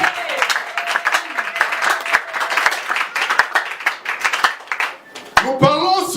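A church congregation claps together in a dense burst of applause, many hands patting at once, with voices calling out over it and a brief loud voice near the end.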